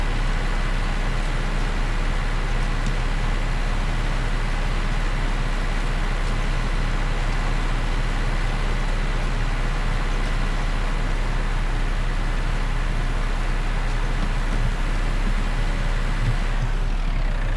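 A tractor engine in Farming Simulator 19 drones steadily throughout, a constant low rumble with a broadband hiss and no break, and no talk over it.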